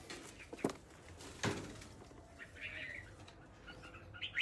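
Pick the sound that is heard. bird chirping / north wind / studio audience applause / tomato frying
bird chirping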